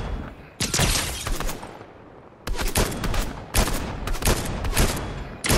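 Rapid bursts of gunfire crackle during a Fortnite match: a long volley, a short lull, then several more loud, close, sharp strings of shots in quick succession.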